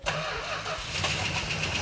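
A 1970 Plymouth Superbird engine starts, a close starter crank that catches quickly into a rough, loud running rumble for a couple of seconds.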